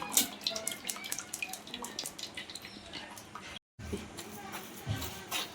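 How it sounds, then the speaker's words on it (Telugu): Liquid pours and splashes steadily as carrot pulp is tipped into a strainer and the juice drains through, a close wet trickling that runs almost continuously with a brief break. "ఇక్కడ పోసేసుకొని బాగా మొత్తం నీళ్ళన్నీ వచ్చేస్తాయండి"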